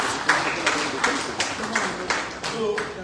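An audience applauds party leaders at a national political convention: a steady wash of clapping with sharper bursts roughly every half second, the sound of a moderately large crowd in a hall.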